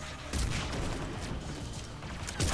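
Rapid bursts from a Geth pulse rifle in the Mass Effect 3 video game, quick repeated shots with sharp onsets at the start and the end, fairly quiet within the game mix.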